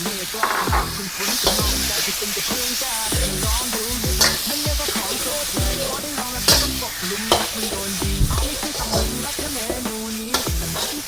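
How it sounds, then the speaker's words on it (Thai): Marinated beef with dried chillies being dry stir-fried without oil in a pan for Thai basil beef, with a steady loud sizzle and repeated scraping strokes of a spatula stirring throughout, no voices. "ตอนนี้เราจะลงไปลวน ลวนก่อนเลยนะครับ"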